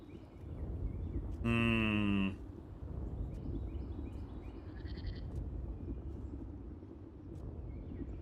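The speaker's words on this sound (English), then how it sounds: "Goats." Goats bleating in the video game Old World: one loud, clear bleat followed by fainter high chirping sounds over a constant low ambient hum.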